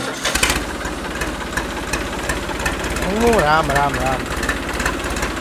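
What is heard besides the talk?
tractor engine running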